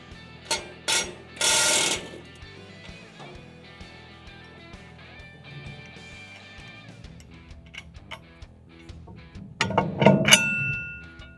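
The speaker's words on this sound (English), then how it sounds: "we're going to take our 1 11/16 socket through our access hole to take this nut off" Blade nut on a Land Pride rotary cutter being loosened with a 1 11/16 socket through the access hole: sharp metallic clanks and rings at the start, a steady ticking rhythm through the middle, then a burst of clattering near the end.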